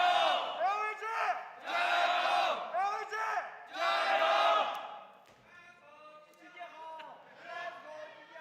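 An esports arena crowd roars and chants in surging bursts during a Counter-Strike match on Dust 2, loud and dense, then drops to a lower murmur with scattered shouts.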